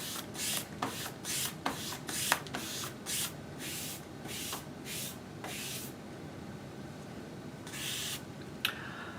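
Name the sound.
squeegeeing vinyl wrap film over knifeless tape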